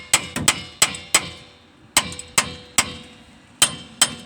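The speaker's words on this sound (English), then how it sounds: "Watch out, I'm going to hammer on it." Sharp metallic hammer blows strike a Pontiac's wheel hub to pull it off, about ten hits in uneven clusters with a pause in the middle, each ringing briefly.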